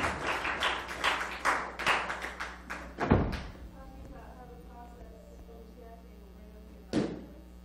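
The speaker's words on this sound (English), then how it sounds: "Another round of applause." A Sunday lecture audience at an ISKCON temple in San Diego gives a short round of applause: scattered claps for about three seconds that quickly die away, followed by quiet room noise and one last thump.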